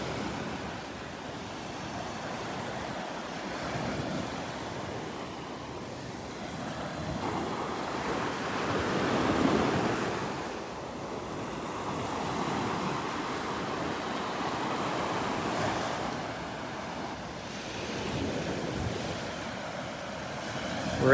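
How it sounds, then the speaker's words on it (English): Small waves roll in gently on a sandy beach in North Naples, Florida, a steady wash of surf swelling and receding in soft cycles with light wind noise and no voices. "Loving these little waves coming in."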